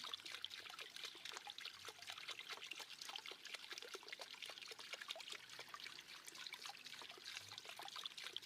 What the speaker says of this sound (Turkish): O su birazcık yavaş akıyor.